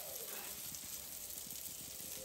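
Slices of king fish (seer fish, vanjaram) shallow-frying crisp in a pan, a soft continuous sizzle with light crackles throughout, fairly quiet and close.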